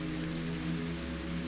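Steady rain hisses evenly throughout, a continuous soft wash of drops with a low hum underneath and no pauses.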